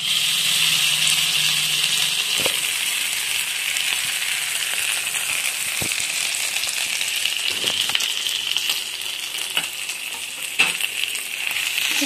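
Two grated boiled potatoes sauté in a pan with a continuous, even sizzle, punctuated by occasional scrapes and taps of stirring.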